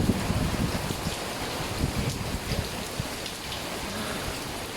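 Heavy rain falls outdoors in a dense, continuous hiss and patter, loud and close, with no voices over it.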